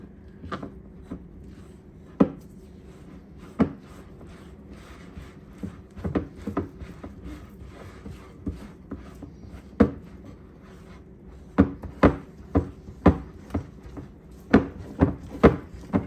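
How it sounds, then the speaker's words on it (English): A spoon stirs cheesy muffin batter in a bowl, producing irregular close taps and soft scraping clicks against the bowl's sides, some quicker clusters near the end, with no talking. "Now we're just going to stir this together until it's mixed."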